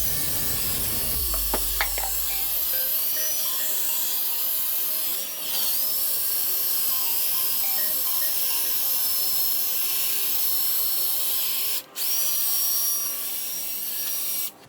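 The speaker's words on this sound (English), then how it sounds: "You want to make sure you keep the drill moving, because if you keep it on one spot, you will burn the plastic." A handheld drill with a polishing pad runs steadily on a plastic headlight lens, giving a continuous close whine with a faint rubbing rasp and brief dips where the pad lifts.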